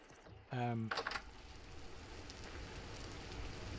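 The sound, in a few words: rain falling in the video game Vintage Story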